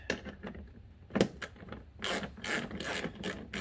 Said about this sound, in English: Put the ratchet back on tightening mode, and